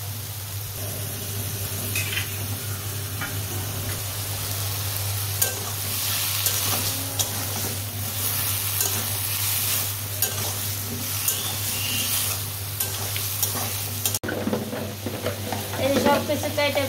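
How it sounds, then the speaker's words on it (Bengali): Hilsa fish curry with taro and potato sizzling steadily in a pan on a stove, with continuous frying hiss and occasional scraping stirs throughout, close and fairly loud with no talk. "এখন ইলিশ মাছ দিয়ে আর মুখি কচু দিয়ে আলু দিয়ে একটা তরকারি রান্না করুন চুলায় বসিয়ে দিছি। এখন কষিয়ে নই ভালো করে।"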